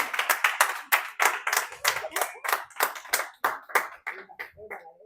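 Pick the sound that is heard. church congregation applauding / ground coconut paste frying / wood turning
church congregation applauding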